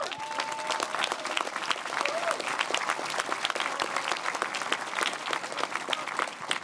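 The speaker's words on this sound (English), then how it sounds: "applaud the outstanding work of our Leadership Election Organizing Committee Chair" Sustained audience applause at an Ontario PC leadership debate in Ottawa, a dense steady patter of many hands clapping throughout, with faint voices beneath.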